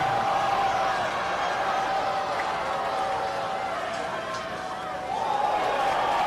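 Crowd noise in a swimming natatorium at a college club swimming national finals, a steady broad wash of cheering and shouting that holds loud throughout, with a sustained whistle-like tone running underneath.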